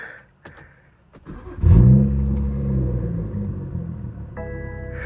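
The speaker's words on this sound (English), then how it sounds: "Let's get a cold start on this thing." A stage 2+ tuned BMW 340i makes a cold start: after a quiet moment the starter catches, the engine flares loudly, then settles into a high, steady idle rumble close to the microphone.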